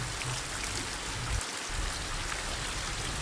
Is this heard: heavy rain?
yes